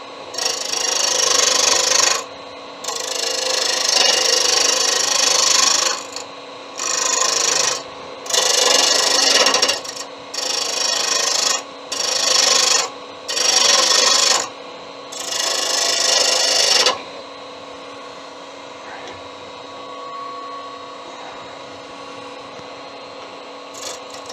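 A wooden Christmas tree bauble being turned on a lathe with light cuts, giving repeated loud rasping bursts of tool on spinning wood separated by short pauses, then a quieter stretch of the lathe running without cutting.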